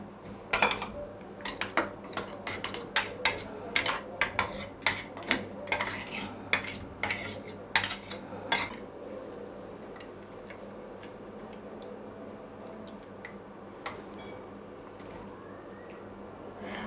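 Chutney being scraped and transferred into a bowl, with a series of sharp metallic spoon clinks and taps against the vessel, busy at first and then thinning to occasional soft knocks, close and fairly quiet.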